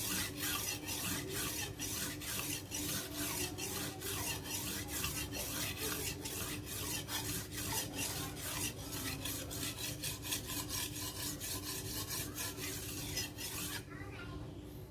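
Rapid, rhythmic rasping strokes of sharpening on a badly rusted machete blade, repeated steadily at close range before stopping near the end.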